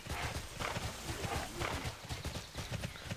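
Rhythmic clip-clop of horse hooves in the online game Tera, a steady close trot of a ridden horse with no talk over it.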